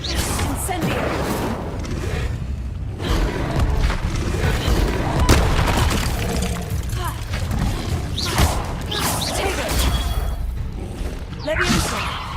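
An Incendio fire spell cast in Hogwarts Legacy gives whooshing, booming bursts over a dense, continuous wash of game sound effects and ambience.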